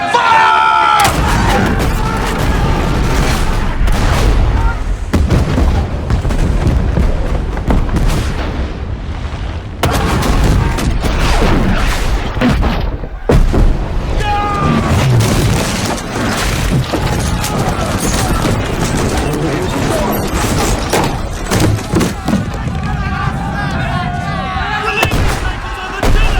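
Cannon fire aboard a warship, loud repeated booms amid a chaotic din of shouting crowd and battle noise throughout, with voices calling over it.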